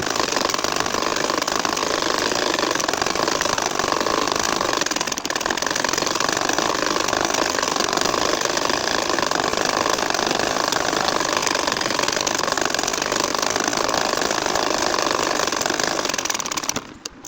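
Domestic sewing machine stitching a nakshi kantha leaf pattern: a steady, continuous motorized whirr and needle chatter running unbroken and close, ending abruptly.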